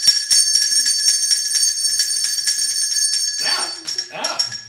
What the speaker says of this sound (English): Here's your bell. Ring it.